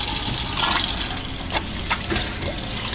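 A hot water tap runs steadily with a full rushing hiss of water close by while washing a cast iron frying pan, broken by a few splashes as the flow hits something.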